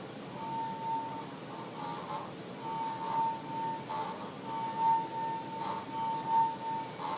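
A wine glass set vibrating at its resonant frequency gives a steady, faint humming tone that swells and fades over quiet background noise, with occasional light clinks.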